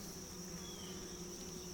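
Steady, continuous buzzing of many bees around a backyard beehive, a dense hum with no breaks, fairly faint and close, with no voices.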